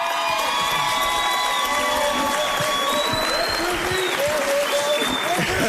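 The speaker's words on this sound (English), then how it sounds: "So we'll give him 2 claps on 2." A crowd at a CWC men's basketball game against Casper College claps and cheers during player introductions, a dense wash of applause with whoops and shouts rising over it.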